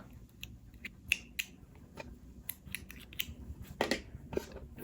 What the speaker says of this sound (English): I'm going to chain one and cut my yarn.